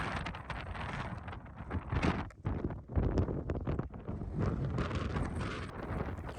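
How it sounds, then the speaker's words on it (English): Strong wind blowing outdoors on a Falklands hike, gusting loudly and buffeting the microphone in uneven surges that rise and dip throughout. "the wind had really picked up"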